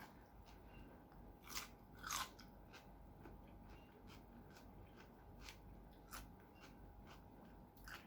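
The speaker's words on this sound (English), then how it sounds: "The texture, the chewiness, the amount of chews it takes before you can swallow it." Quiet, close chewing of marinated beef tenderloin, with sharp crunchy bites standing out in a steady rhythm over low background hiss and no talking.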